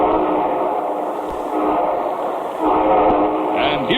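A steam train rumbles along with a steady rolling roar and chugging texture, a whistle rising toward the end, as a sound effect opening a radio show.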